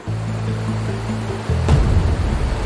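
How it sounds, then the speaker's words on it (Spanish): The Urubamba river runs through the deep valley floor below Machu Picchu. A broad, rushing water roar swells in midway after a low sustained tone and continues steadily to the end. "el río Urubamba fluye por el fondo del valle"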